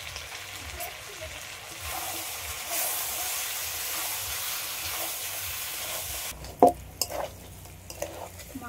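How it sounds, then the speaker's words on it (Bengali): Mutton and fried potato sizzling and hissing in a pan as they are stirred for biryani, a steady frying hiss followed by a few sharp clinks and scrapes of a utensil against the pan near the end. "এই যে ভেজে রাখা আলুটা এই মাংসের মধ্যে দিয়ে এটা একটু হালকা করে কষে নেব।"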